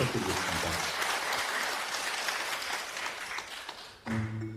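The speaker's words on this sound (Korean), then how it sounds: "우리 임영은님의 이야기 역시 큰 박수와 함께 청해 듣겠습니다" Audience applause for a reader at a Korean reading event, a dense burst of clapping that fades, then breaks off as a voice begins speaking near the end.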